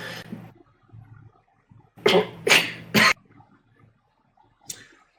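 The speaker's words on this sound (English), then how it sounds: "having a coughing attack, so we'll just fill a little bit of air right here" A short burst of harsh, loud coughs, three strong hacks in close succession after a few weaker ones, followed by a lone cough a moment later.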